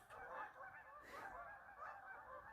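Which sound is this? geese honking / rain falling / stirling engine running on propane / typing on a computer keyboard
geese honking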